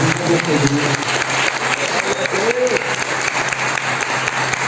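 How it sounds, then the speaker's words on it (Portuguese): A crowd at a church worship service claps steadily and evenly throughout, dense applause with no voices standing out. "Você podia aplaudir o Senhor, porque o Senhor é poderoso."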